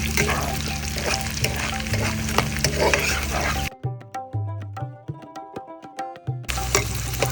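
Onions sizzling as they fry to brown for chicken kala bhuna, a loud, close crackle that drops out for a few seconds to a quieter patch of scattered knocks and clinks before the frying returns. No talk.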